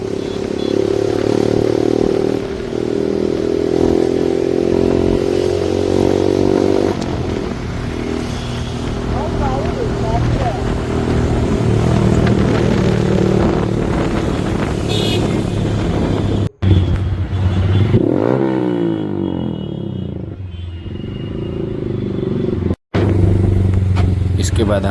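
A motorcycle ridden on the road toward an ISKCON temple gives a steady engine drone with rattling road noise, heard close under people talking throughout.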